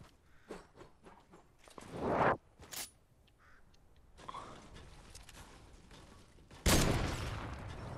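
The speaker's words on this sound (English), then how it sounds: "Oh, you shot at me." Gunfire in the Fortnite video game comes as a couple of loud bursts separated by quieter stretches of scattered clicks and shuffling.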